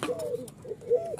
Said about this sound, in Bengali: এই যে ঘুঘু পাখিটা ডাকাডাকি করতেছে